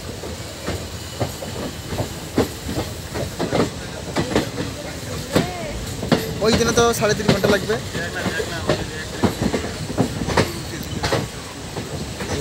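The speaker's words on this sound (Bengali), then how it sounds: "এখন আস্তে আস্তে ট্রেন যাবে।" A mountain train moves slowly uphill toward a hilltop, its wheels clacking over rails in irregular knocks under a steady rolling rumble and hiss, while passengers talk nearby.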